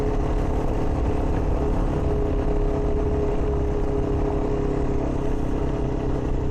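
A dirt bike engine drones steadily during a trail ride, loud and continuous with a sustained buzzing tone and no clear revving changes, and no voices.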